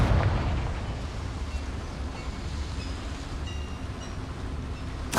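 Confringo fire spell cast in Hogwarts Legacy, a broad rushing blast that fades into a sustained low roar with a second burst at the end, no voices.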